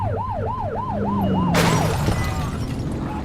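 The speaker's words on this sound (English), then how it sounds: "Get on their tail and whip the siren." A wailing electronic police siren in the video game The Precinct rises and falls repeatedly, then a sharp burst of noise cuts in as a vehicle engine rumbles underneath.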